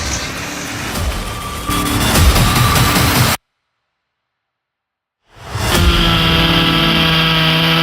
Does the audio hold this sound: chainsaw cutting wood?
yes